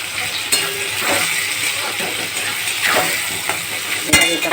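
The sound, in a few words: tomato being stirred and fried with onion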